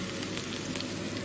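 Onion sizzling steadily in a hot pan as it is stirred, a soft, even crackle throughout.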